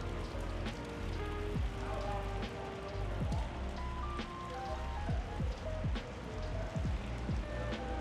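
Steady rain patters on a surface at an outdoor car show, with scattered sharper drops landing close by over a constant low rumble.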